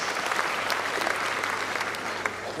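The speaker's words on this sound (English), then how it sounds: "Let's give him another round of applause." Graduation ceremony audience gives a round of applause, a thick, steady roar of many hands clapping in a large hall, loud and sustained throughout with a few sharper individual claps standing out.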